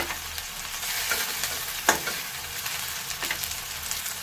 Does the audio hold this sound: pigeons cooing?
no